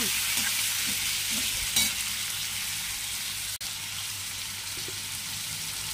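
Chopped onions frying in a pan for a goat meat curry, a steady loud hiss and sizzle that continues without a break, heard close up and without talk.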